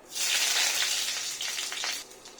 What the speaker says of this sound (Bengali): সামান্য তেল দিয়ে দিয়েছি, এবার তেলটা গরম হয়ে গেছে, এবার ফোড়নটা দিয়ে দিব